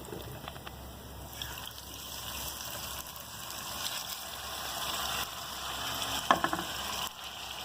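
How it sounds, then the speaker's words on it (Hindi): Marinated beef pasanday slices hitting hot fried onions in a pan, giving a steady, close sizzle with a sharper burst of crackling near the end, no voices. "अब हमने इनके अंदर, इस प्याज के अंदर पसंदे डाल देने हैं जो हमने मैरिनेट करके रखे हुए हैं"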